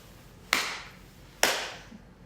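Two sharp hand claps about a second apart, close and clear, each ringing briefly in a quiet room, given as a way to wake sleepy people.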